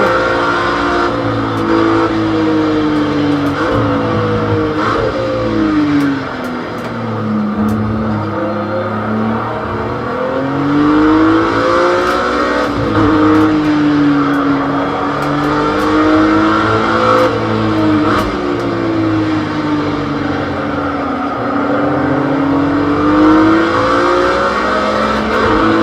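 Group C race car engine in the Project Cars 2 racing game, droning loud and continuous for the whole stretch, its pitch rising and falling in repeated sweeps as it revs up and eases off through gear changes.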